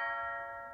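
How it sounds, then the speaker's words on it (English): A doorbell chime rings once, a sustained bright tone that slowly fades, heard alone with no talking. "just ring the bell"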